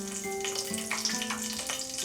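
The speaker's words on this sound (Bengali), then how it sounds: "ফোড়নটাকে ফ্রাই করে নেব 15-20 সেকেন্ড।" Whole spices (cardamom, cloves, cinnamon, black pepper, mace) and bay leaves fry in hot oil with a moderate, even sizzle and soft crackles, with no talking.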